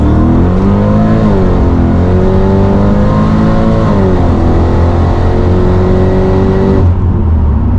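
A supercharged Mercedes CLK55 AMG M113K engine roars hard and loud during a launch, revving up steadily in a strong continuous pull, with a brief dip in pitch before surging again near the end.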